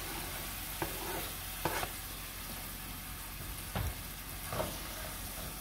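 Rough-chopped onions sizzle in a pan as the base for a littleneck clam zuppa: a soft, constant frying hiss, close but faint, broken by a few light scrapes and taps of a utensil.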